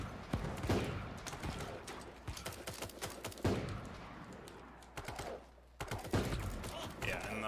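Gunfire in Super Animal Royale, a string of quick shots and bursts at moderate volume, mixed with clicks and keyboard tapping, with a pause before more shots near the end.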